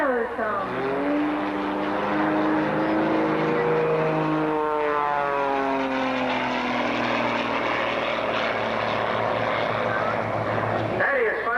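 Patty Wagstaff's aerobatic airplane working through airshow maneuvers at EAA AirVenture Oshkosh 1991, its propeller engine roaring loud with sweeping rises and falls in pitch as it dives, climbs and passes.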